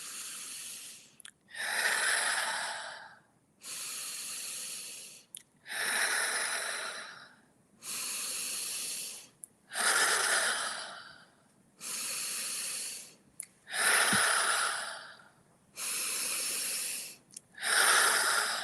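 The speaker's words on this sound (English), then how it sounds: "So we're going to start breathing fully and deeply together, and we're going to do 3 rounds of 15 breaths." Deep, full breaths drawn in through the nose during a guided breathwork session, about nine slow, airy inhale-exhale cycles in an even rhythm, close and clear with no talking.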